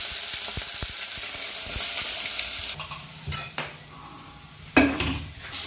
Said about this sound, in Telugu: ఉల్లిపాయలు అయితే బాగా వేగాలండి బాగా బాగా వేగేంత వరకు అయితే ఫ్రై చేసుకున్నాం